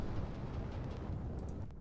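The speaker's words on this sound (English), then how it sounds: "Secondary explosion." Deep rumbling secondary explosion from a burning ship in the naval video game Sea Power, a sustained low roar that fades slightly near the end.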